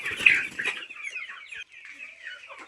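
Chickens cluck in a busy burst near the start, then keep up softer, scattered clucks and calls through the rest.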